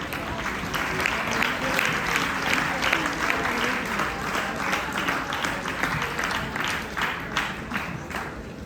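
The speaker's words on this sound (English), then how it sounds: "Please welcome him with a big round of applause" Big round of audience applause at a university mental health week event at DDU University, Gorakhpur, welcoming a speaker to the stage; dense, steady clapping fills the hall throughout, with faint voices underneath.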